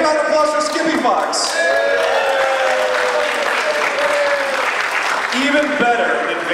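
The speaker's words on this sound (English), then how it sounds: "Hey, give a round of applause for Skippy Fox." A live audience at a furry puppet show in a megaplex claps and cheers for someone called up onstage, lively applause running throughout while voices talk and call out over it.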